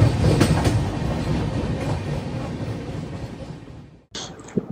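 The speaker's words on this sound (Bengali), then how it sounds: "মোটামুটি 15 মিনিট দাঁড়ানোর পর কিন্তু এখান থেকে ছাড়লো ট্রেন" A train pulls away after a long stop and runs along the rails, a steady loud rumble of wheels with clattering bursts, cutting out briefly near the end before the noise resumes.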